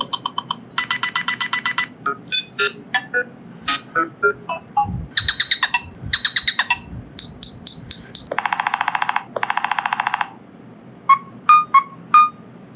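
A Nothing Phone (1) cycles through several electronic ringtones, bursts of bright chirping trills and beeps separated by short pauses, loud and close.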